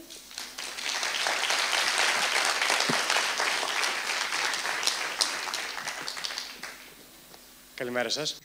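An audience at a startup pitch battle at Mazinnov applauds the first presenter: dense clapping swells, holds, then gradually fades, and a voice begins speaking near the end.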